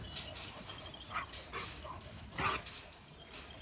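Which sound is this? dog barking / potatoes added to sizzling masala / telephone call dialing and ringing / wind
dog barking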